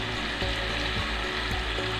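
Freshly ground paste for a South Indian fish curry sizzles as it fries in a pan, a steady close crackle with small pops and stirring scrapes and no talk.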